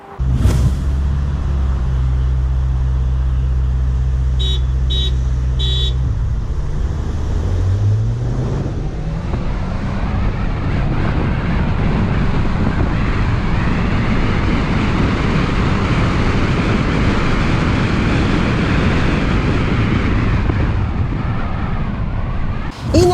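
An SUV, one of a Honda HR-V, Jeep Renegade or Hyundai Creta, 2019 model, accelerates hard from 0 to 100 km/h: a steady low engine drone rising in pitch over the gear changes, with heavy wind and road roar filling the cabin.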